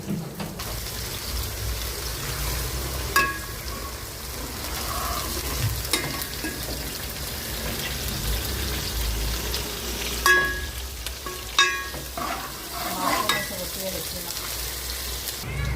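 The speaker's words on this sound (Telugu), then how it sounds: "ఆనియన్స్ అయితే మీకు చూపించిన రకంగా ఈ విధంగా ఉడికించుకోవాలి." Onions cook in a pan on a low flame, a continuous close sizzle and bubbling with occasional clinks and scrapes of a utensil, steady and moderately loud throughout.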